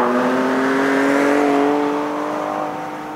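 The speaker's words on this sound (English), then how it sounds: "it makes its presence known here in the Ranger Raptor thanks to an active exhaust system with four different settings" A Ford Ranger Raptor with an active exhaust revs up, its engine note climbing and holding as a loud, smooth tone before easing off slightly near the end, close and with no voices.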